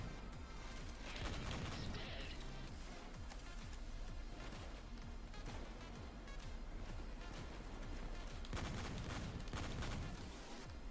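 Dense gunfire from a shooter video game, with rapid bursts and heavier volleys layered over a constant busy backdrop, loud and sustained throughout.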